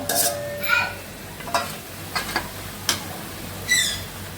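Fried bottle gourd and boiled lentils are stirred together in a pan, with several distinct scraping strokes of a utensil over a low sizzle, the strokes loud and close.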